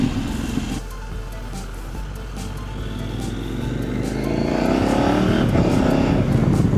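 Kove 800X motorcycle riding at speed, its engine note rising and dipping through several quick-shifter gear changes over steady wind and road noise, the revs building louder toward the end.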